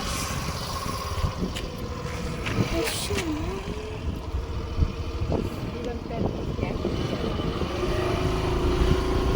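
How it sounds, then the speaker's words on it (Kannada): A motor scooter engine hums steadily as it is ridden along a road, with traffic noise and a passing horn around it and faint voices in the background. "ಅಮ್ಮ ಗಾಡಿ ಓಡಿಸ್ತಿದ್ದಾರೆ"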